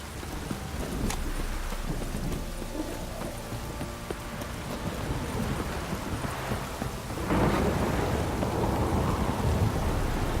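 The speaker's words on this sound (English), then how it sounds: "this downpour's a bastard" Rain pours steadily while thunder rumbles, hoofbeats clop along, and the downpour swells louder toward the end, in the video game The Witcher 3.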